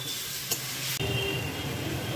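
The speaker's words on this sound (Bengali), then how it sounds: "এবার একটু ভাজা ভাজা করেই আমি এটা নামিয়ে নেব।" Prawns with banana flower and potato fry in a pan, giving a steady close sizzle and hiss interrupted by a short scrape of stirring partway through.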